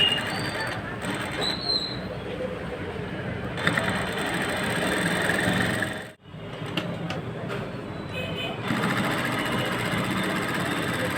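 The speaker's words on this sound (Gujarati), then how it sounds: "હવે ખૂણો આવે ત્યાં મશીન ધીમું પાડીને એક સોય નીચે નાખી દેવાની આવી રીતે, અને પછી પાછી સીધી સિલાઈ લેવાની છે" A home sewing machine stitches fabric in a steady mechanical whir with a brief pause mid-way, as the machine slows for a corner, then resumes running; faint talk sits under it.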